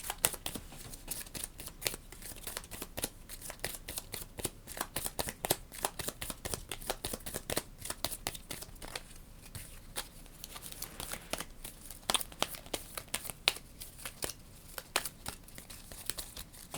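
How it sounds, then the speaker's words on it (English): A deck of cards for the Astro Knights board game is shuffled up close, a rapid run of crisp riffling snaps and flutters repeating steadily for the whole stretch. "shuffle time."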